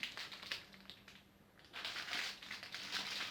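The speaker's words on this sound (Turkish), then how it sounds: "Tulumbalarımızı kesmeye başlayalım." Oiled scissors snip through crispy fried tulumba dessert, giving a few crackly crunching cuts in uneven bursts, close and moderately loud, with no voices.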